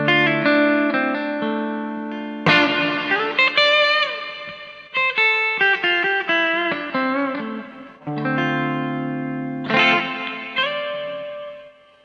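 Electric guitar played through a TC Electronic Hall Of Fame reverb pedal set toward the bright end, sustained chords and picked melodic notes with lush, lingering reverb tails, loud and alone.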